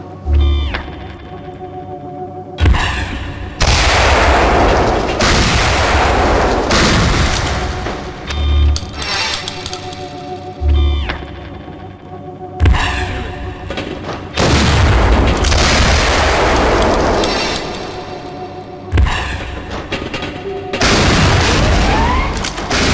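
Cluster payload explosions from a customizable weapon in the 2000 PC game Gunman Chronicles: heavy, loud booms hit in repeated bursts, each followed by a crackling scatter of smaller blasts and short quieter gaps.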